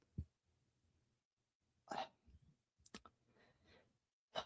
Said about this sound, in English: I don't know why I get the hiccup so much.